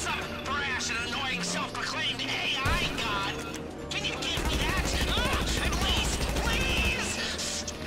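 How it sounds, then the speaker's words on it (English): Combat MG machine gun fire in GTA V Online during a heist, rapid sustained bursts with dense gunfire in the second half, close and loud, under overlapping talk from players. "I'm using combat MG."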